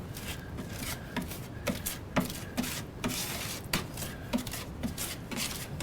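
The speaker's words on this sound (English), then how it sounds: "So you want to get plenty of mud in them holes." Joint compound being packed into old wall-anchor holes in a plaster wall of a mid-century ranch house with a putty knife, making steady close scraping and smearing strokes with rhythmic soft taps, with no speech.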